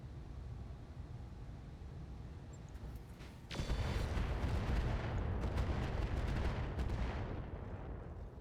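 Artillery and weapon fire in the mech game Solaris 7 targeting a Hunchback mech, quiet rumbling at first, then a loud sustained barrage of heavy booms and rapid impacts from the midpoint on.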